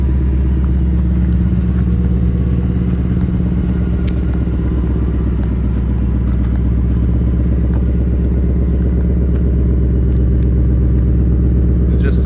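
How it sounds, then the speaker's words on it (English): A Ford Mustang Mach 1's 480-horsepower naturally aspirated V8, warm after driving, idles after a remote start with a loud, deep, steady rumble and a fast, even pulsing throb close by. "Let's use the remote start and just get it to start up so you can hear it."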